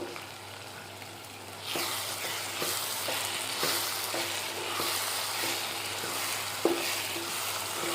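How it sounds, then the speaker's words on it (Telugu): Spices for an Andhra-style egg and broad bean curry fry in a pan with a steady, close sizzle, broken by regular scraping stir strokes and one sharper clink. "ఇవన్నీ కలిపి పచ్చివాసన పోయే వరకు వేయించుకుని"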